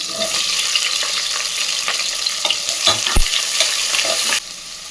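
Onions and whole spices (cinnamon, cloves, cardamom, green chilli, garam masala) sizzle steadily in a pan for white pulao, a continuous close frying hiss with a few stirring clatters, ending abruptly.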